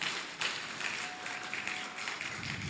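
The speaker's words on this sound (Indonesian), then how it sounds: "Kita berikan aplaus dulu untuk anak-anak kita." Applause from an audience at a madrasah junior high graduation ceremony, a steady wash of many hands clapping, fairly even and sustained throughout.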